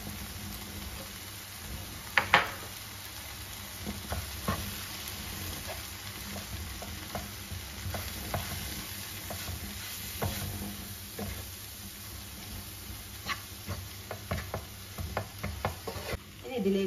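Fish curry frying in a pan as chili and turmeric powder are stirred in, a steady low sizzle with scattered spoon scrapes and clinks recurring throughout, close and unaccompanied by talk.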